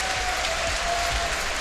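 A large esports crowd at a Dota 2 tournament match cheers and applauds in a loud, continuous roar that fills the whole stretch.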